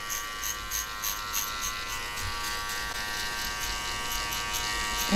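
Electric hair clippers cutting a low drop fade buzz steadily at a moderate level close by, a continuous hum with no talking over it.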